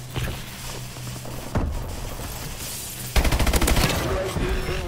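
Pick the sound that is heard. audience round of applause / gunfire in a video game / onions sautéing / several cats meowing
gunfire in a video game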